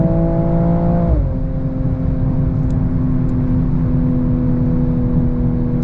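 A 2022 BMW M240i on the Autobahn drones loudly and steadily from inside the cabin; the engine note drops in pitch at a gear change about a second in, then holds a constant hum, with only a couple of faint crackles.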